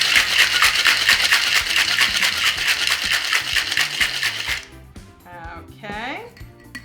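A cocktail shaker packed with ice and heavy cream is shaken vigorously, a loud, fast rhythmic rattle of ice clattering for several seconds before stopping, followed by a voice speaking.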